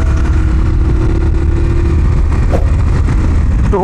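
Loud, close engine drone from a Honda TMX125 or Kawasaki Barako 175 motorcycle, a steady low rumble held at constant revs.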